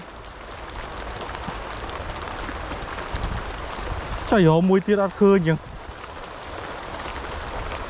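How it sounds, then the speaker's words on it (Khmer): Rain falls outdoors at night with a steady, even patter that runs throughout, briefly overlaid by someone speaking partway through. "ភ្លៀងហើយភ្លៀងហើយ"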